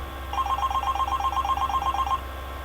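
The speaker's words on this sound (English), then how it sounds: "when the phone rang." A telephone rings in a hotel room at night, a steady rapid electronic warble repeating for about two seconds, fairly clear over a low background hum.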